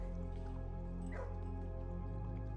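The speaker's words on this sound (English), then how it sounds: "Dogs be barking." Dogs barking in the puzzle game Blue Prince, a faint, brief yip rising over a low steady hum, distant and quiet.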